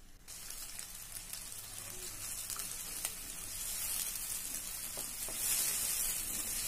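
Chopped onions hit hot oil in a pan and fry with a soft, continuous sizzle that slowly swells louder, with a few faint stirring taps.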